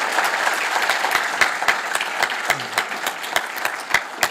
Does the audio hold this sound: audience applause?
yes